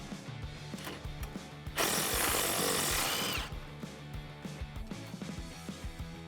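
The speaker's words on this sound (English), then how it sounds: "I'm just going to take out that bolt." A 10mm socket tool works a bolt loose on a Tacoma truck's front suspension bracket: a harsh burst of power-tool whirring about a second and a half long amid close clicks and metallic handling noises.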